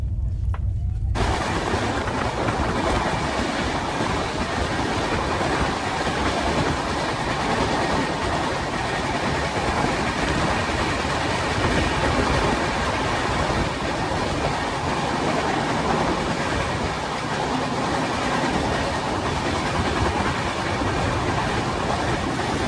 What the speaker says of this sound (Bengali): আমাদের ট্রেনটা কিন্তু এখন বাঁক নিচ্ছে